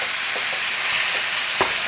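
Grass-fed ground beef fries loudly in a pan, a strong steady hiss with a few soft scrapes and knocks as a meat masher stirs it, close up and without voices.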